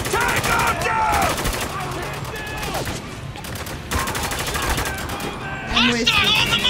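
Heavy gunfire fills a Spec Ops: The Line firefight, sustained bursts crackling loudly throughout under shouted squad voices and background music.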